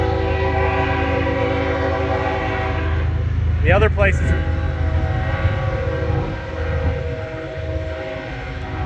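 A train rumbles past nearby along Route 66 with a sustained horn blast partway through, a voice speaking faintly over the steady roar.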